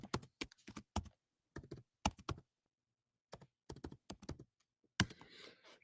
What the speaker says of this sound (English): I'm just a slow typer.